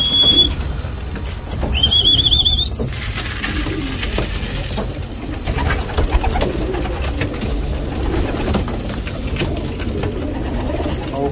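Racing pigeons coo in a loft, a dense close chorus of soft throaty coos mixed with wing flutters and a few whistling notes, continuous throughout.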